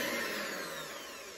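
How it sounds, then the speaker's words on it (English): An electric whisk whips double cream with a steady, even whirring drone that fades slightly as it runs. No one speaks. "I'd show you how to do it with an electric whisk."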